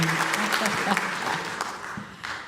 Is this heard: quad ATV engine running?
no